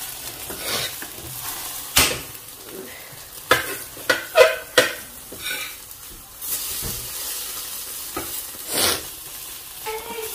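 Eggs frying in a pan at home while being stirred, a soft continuous sizzle with scattered sharp scrapes and clinks of a utensil against the pan.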